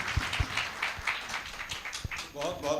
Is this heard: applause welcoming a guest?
yes